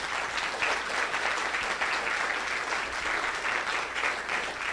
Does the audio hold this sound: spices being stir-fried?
no